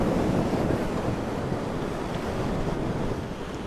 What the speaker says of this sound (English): Oh, that's windy.